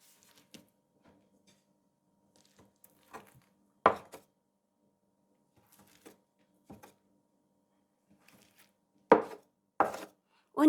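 Knife or scraper cutting soft cheese-filled bazlama dough into pieces on a board, a handful of sparse, separate thuds and taps spread over quiet gaps, a few louder chops toward the end.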